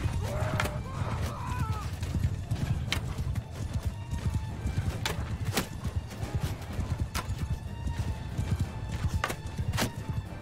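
Horse archers gallop across a battle in the video game Bannerlord, with steady rapid hoofbeats and sharp clicks and impacts ringing out, moderately loud and continuous, with no talk over them.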